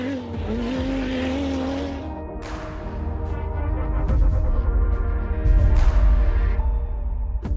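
A Dacia Sandrider rally car drives hard on a test track, its engine revving and shifting loudly up close, with rising roar and gravelly tire noise as it accelerates.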